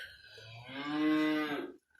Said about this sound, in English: there's the last cow I got to check